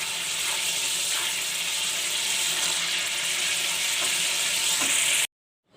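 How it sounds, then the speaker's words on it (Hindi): Whole garam masala spices frying in hot oil for an aloo matar biryani, a loud continuous hissing sizzle with occasional stirring scrapes, ending abruptly in silence just before the end. "अब ये सारे गरम मसाला है, ये डाल के हम अच्छी तरीके से इसको भूनेंगे"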